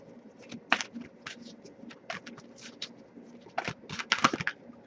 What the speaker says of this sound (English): I'll shuffle for a little longer